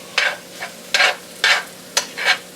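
Flour being stirred into a sizzling pan for chicken Marsala, with five distinct scraping stir strokes in an uneven rhythm over a faint steady sizzle, close and fairly quiet.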